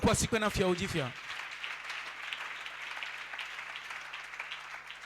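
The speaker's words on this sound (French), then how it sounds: "Est-ce qu'on peut acclamer le roi des rois?" A church congregation bursts into applause in praise of the king of kings, a preacher's voice leading in before sustained, even clapping fills the room.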